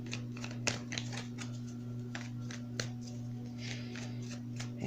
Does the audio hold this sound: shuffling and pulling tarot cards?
yes